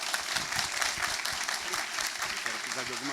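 An audience in a lecture hall claps to welcome a female professor before a physics-week talk, with a steady, dense round of applause, close and even in level throughout.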